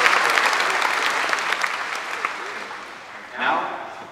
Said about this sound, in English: could we please have another round of applause to congratulate the graduating class of 2019